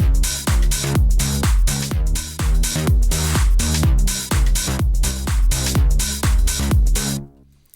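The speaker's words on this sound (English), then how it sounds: "And with the bass line it sounds like this." An electronic music drop from a remixed song plays loud and up close, with a heavy bass line under punchy, evenly spaced beats and layered synth chords, stopping abruptly just before the end.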